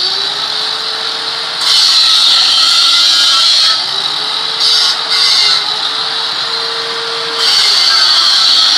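A power grinder grinds steadily and loudly up close. Its harsh, continuous whine rises and dips in pitch as the load changes, and nobody speaks.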